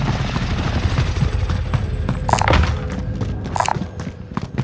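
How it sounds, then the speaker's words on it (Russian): An enemy helicopter in Call of Duty Warzone Pacific drones with a steady, loud rotor thrum, and a couple of sharp, higher-pitched game impacts cut through near the middle. "Вертушка противника!"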